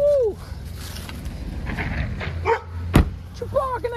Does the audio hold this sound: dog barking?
yes